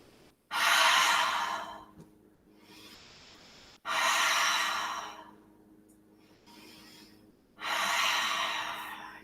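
Three long, deep breaths drawn and released during a studio yoga class, each a loud airy rush lasting about two seconds, separated by quieter pauses, close to the listener with no talking.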